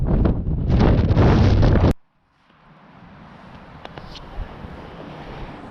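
Strong wind buffets the microphone on Conwy Mountain, a loud roaring gust for two seconds that cuts off sharply, followed by a quieter, steadier breeze.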